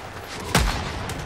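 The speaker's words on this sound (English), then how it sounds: "my mortar almost smoked me" A single mortar blast in the video game Helldivers 2, one sudden heavy boom with a low rumbling tail over steady game background noise, close and loud.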